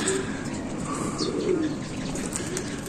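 Homing pigeons returning to their loft give soft, low coos and a few chirps over a steady outdoor background, fairly close with no talk.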